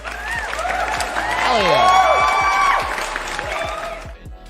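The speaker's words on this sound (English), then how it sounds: "We got to give you some claps since we know you're here." Applause for a good first trade comes as a steady patter of clapping, swelling in the middle and thinning toward the end, mixed with whoops while someone talks over it.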